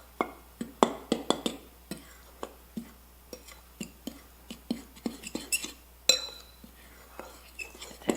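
Dry ingredients with salt and nutmeg are stirred together in a bowl for eggnog cookie dough, a spoon clinking and scraping against the bowl in close, irregular taps, with faint whispering in the background.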